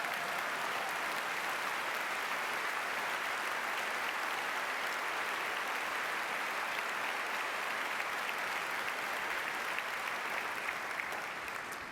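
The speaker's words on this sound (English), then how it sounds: "I appreciate the applause." A large audience at an architecture convention general session claps in a steady, dense wash that holds evenly for the whole stretch, sounding slightly distant with no voices over it.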